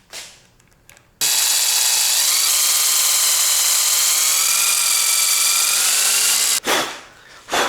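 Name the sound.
power tool drilling aluminium for a motorcycle clutch lever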